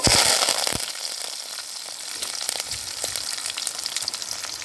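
Loud crackling sizzle of onions and curry leaves frying in hot oil after mustard seeds, busy and continuous, with occasional spattering pops close by.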